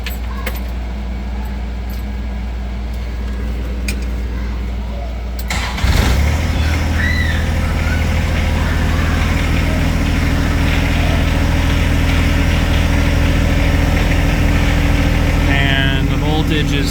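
A John Deere 1025R compact tractor's engine cranks and catches about a third of the way in, then settles into a loud steady diesel idle, with faint jingling and knocks beforehand.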